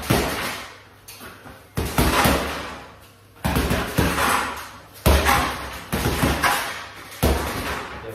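Boxing gloves pound a heavy punching bag in hard training, a series of loud, close, heavy thuds in quick clusters with short gaps between combinations, each blow ringing out briefly.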